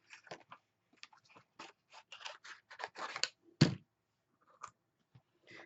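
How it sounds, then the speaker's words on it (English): Scissors fussy cut a paper heart envelope, giving quiet, close snips and crisp paper slicing in short irregular bursts, with one sharper clack and brief pauses, no talking. "I'm going to go ahead and fussy cut it out."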